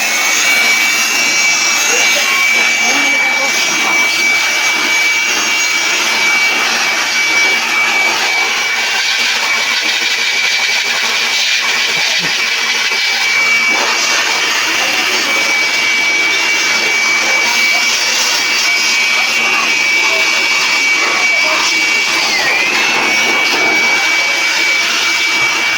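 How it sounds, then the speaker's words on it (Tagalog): An outdoor blower runs nearby with a steady, loud whooshing roar and a constant high whine, unbroken throughout, with faint voices occasionally under it. "Sa labas may blower."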